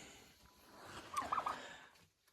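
Turkeys gobble inside a polycarbonate greenhouse in a quick burst of warbling calls, faint and somewhat distant, over a low background hum.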